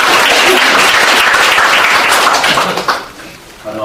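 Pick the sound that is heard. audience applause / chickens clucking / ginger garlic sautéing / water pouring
audience applause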